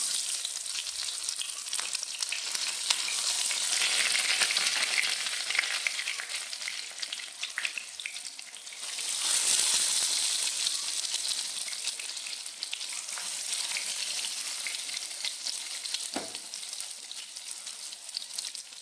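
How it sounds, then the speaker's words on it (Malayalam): Steady, loud sizzling of oil shallow-frying marinated fish in a pan, continuous throughout with a brief swell midway and no voices. "ഇനി നമുക്കതൊന്ന് വറുത്തെടുക്കാം"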